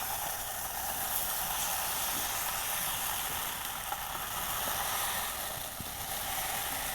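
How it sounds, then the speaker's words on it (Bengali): Food frying in hot oil, a steady, dense sizzle with fine crackling held at an even level throughout, close and unbroken, with no voices. "এখন হচ্ছে যে আসল কাজই হচ্ছে ভাজা"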